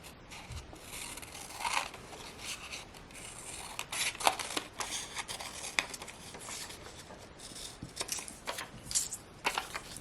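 Scissors snip through a paper petticoat pattern, a steady series of close, crisp cuts and rustles of paper repeating at an irregular pace, no speech.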